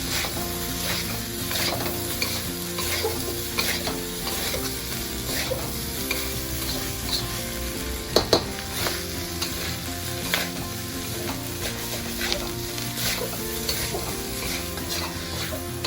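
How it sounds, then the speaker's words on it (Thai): Sticky pork filling for sago dumplings stir-fried in a pan, with a steady close sizzle and constant scraping and stirring of the spatula, plus a couple of sharper knocks against the pan. "ผัดจนมันเหนียวเด้อนี่เด้อจ้า"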